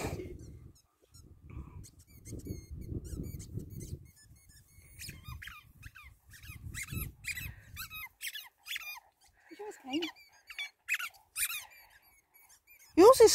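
A squeaky ball is squeezed repeatedly by German Shepherds and a Husky at play, giving quick clustered squeaks between quieter rustling gaps, fairly close and alone without talk.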